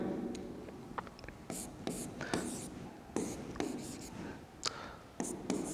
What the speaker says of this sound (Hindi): एल्डिहाइड को अपन फॉर्म में लिख दूं